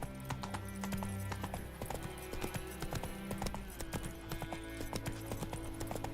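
Hooves of Geralt's horse Roach in The Witcher 3: Wild Hunt, a steady rhythmic clip-clop at a trot, fairly close and clear, with game ambience underneath.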